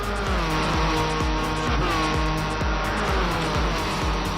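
A race car in a GT racing video game loses control, its engine revving hard with repeated gear-shift drops while tires squeal and skid, loud and continuous.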